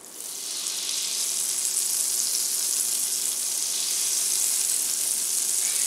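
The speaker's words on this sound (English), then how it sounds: "just going to let this butter melt" European style butter melting in a pan, a bright continuous sizzle that rises at the start and then holds steady and close, with no voices.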